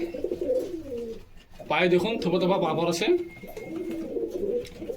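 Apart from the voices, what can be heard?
pigeons cooing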